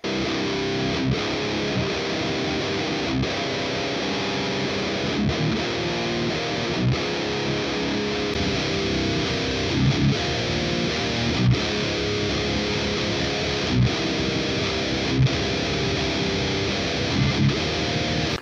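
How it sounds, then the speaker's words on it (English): Thick, saturated high-gain electric guitar runs through a Rockaverb and an EVH amplifier, churning out sustained palm-muted riffs with brief rhythmic gaps, loud and close with no talking. "And listen to the Rockaverb versus the EVH 606."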